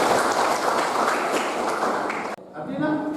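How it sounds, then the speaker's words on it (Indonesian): A classroom group claps together for a presenter, a dense burst of applause that stops abruptly, followed by a voice speaking close by. "Tepuk tangan buat aku."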